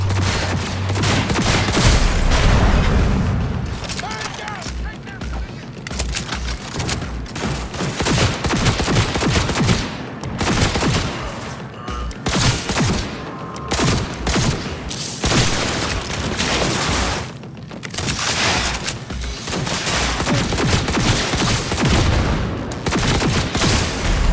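Gunfire in Cyberpunk 2077 during a war setting, dense loud bursts and rapid volleys of shots and booms running almost continuously, with brief lulls between salvos.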